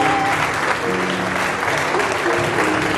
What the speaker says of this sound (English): Come and clap your hands for Jesus.